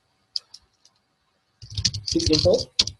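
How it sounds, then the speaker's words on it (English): A computer keyboard taps out a command in a few sparse, crisp clicks, then a voice talks over further clicks near the end. "Simply we type system info"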